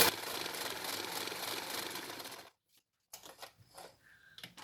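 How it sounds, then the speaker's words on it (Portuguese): A sewing machine stitching a seam on fabric, a close, steady dense whirr for about two and a half seconds that stops abruptly, followed by a few soft handling clicks and knocks. "Abaixo o pezinho e sigo a costura."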